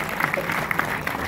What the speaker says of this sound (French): Allez, on applaudit très fort.